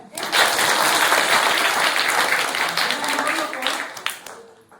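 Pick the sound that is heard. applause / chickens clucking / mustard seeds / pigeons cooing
applause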